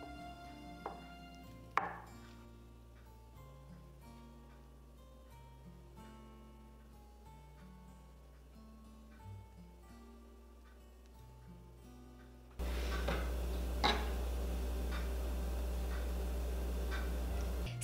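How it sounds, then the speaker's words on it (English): A knife chops softened noodles into pieces on a cutting board, giving a string of short, fairly quiet taps with a couple of sharper knocks, followed by a louder stretch of steady background noise. "Now we're gonna place it on a cutting board and cut it into 1-inch pieces."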